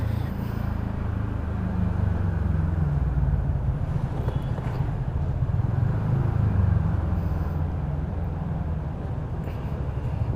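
TVS Ntorq scooter being ridden, a steady low engine drone with road rumble and wind noise, close and continuous throughout.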